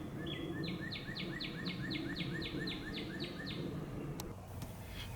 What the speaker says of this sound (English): such as this northern cardinal